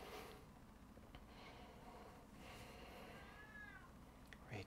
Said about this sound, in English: This is my cat meowing. She's meowing for attention and food.